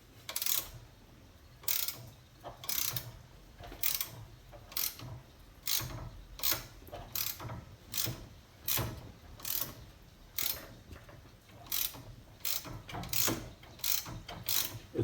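A ratchet wrench turns a bolt during a lower control arm replacement on a 2007 Hyundai Santa Fe. Its close, crisp clicking comes in regular bursts about every second, with quiet pauses between the strokes and no voices.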